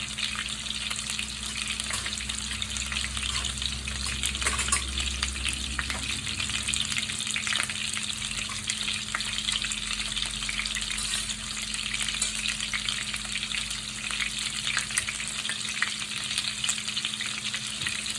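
Italian meatballs brown in a frying pan, a continuous close sizzle and crackle of frying with occasional stirring scrapes and a low background hum, no talking.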